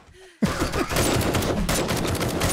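Sustained rapid gunfire in the survival game 7 Days to Die erupts after a brief quiet moment, a dense, loud, continuous volley of shots with no pauses.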